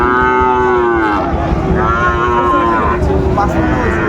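A young Sahiwal bull calf moos loudly and close by at a cattle market in Sylhet, several drawn-out calls one after another, with a steady low rumble behind.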